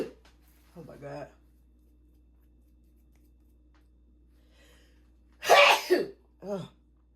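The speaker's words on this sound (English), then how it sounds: "I gotta sneeze." A woman sneezes at home during a cleaning and grocery day: a small nasal burst early, then one loud, close sneeze with a shorter follow-up near the end, over a faint steady hum.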